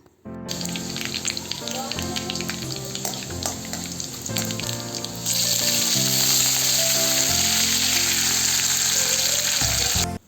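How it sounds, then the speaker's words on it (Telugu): Spices tempering in hot oil for a broccoli curry sizzle and crackle steadily, close and loud throughout, the frying growing fuller and more intense partway through. "తాలింపు దినుసులు వేసుకోవాలి"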